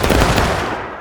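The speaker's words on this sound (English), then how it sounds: "Not a bad volley." A close, loud musket volley rings out in the Civil War game War of Rights: a dense crackle of many rifles fired almost together, quickly decaying into a rolling echo.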